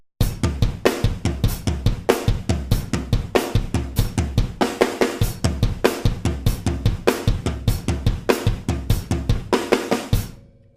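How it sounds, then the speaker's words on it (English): Drum kit plays a steady polyrhythm groove at 150 bpm, with a quick three-stroke snare fill landing back on the downbeat. The hits are loud, close and tightly repeated throughout, with no voices. "taking it up to 150, throwing in just a quick 3-stroke fill, ending on the 1, and continuing the polyrhythm"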